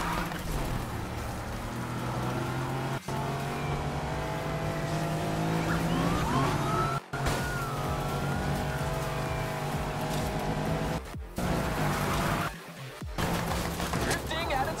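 Jaguar built into a drift car in Need for Speed, its engine droning steadily with tire skids and squeals sliding over it, loud and continuous, broken by a few brief dropouts.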